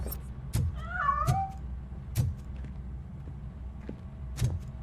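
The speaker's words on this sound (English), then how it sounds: "That cat must be hiding inside." Cat meowing inside a Robocop video game level, a short rising-and-falling meow near the start amid soft game ambience with a few sharp thuds scattered through the scene.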